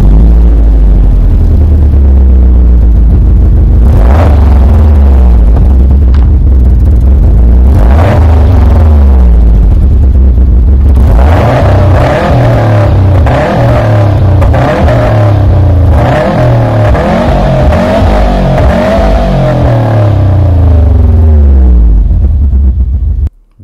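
A 2010 Subaru WRX STI with an upgraded exhaust revs repeatedly, rising and falling in throaty bursts, then holds a loud, sustained rumbling roar before cutting off abruptly.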